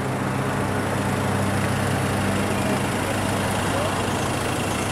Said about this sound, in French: Donc là, vous avez les voitures officielles.